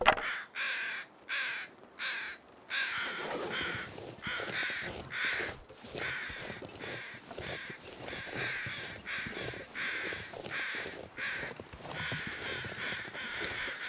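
Crows in The Long Dark caw loudly and repeatedly in a rapid, overlapping chorus of harsh calls, close and persistent over a continuous outdoor ambience.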